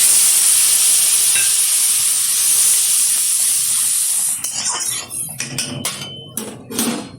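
Water poured onto fried spice masala in a hot pan for egg curry, a loud steady hiss of frying that gives way to bursts of violent, crackling sizzle and spitting steam, close and alone with no voices.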